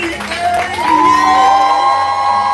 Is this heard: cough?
no